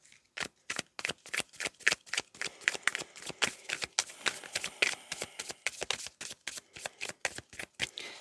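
A deck of tarot cards is shuffled by hand at close range, giving a quick run of crisp, riffling flutters in a steady rhythm for several seconds, fairly soft and with no talk.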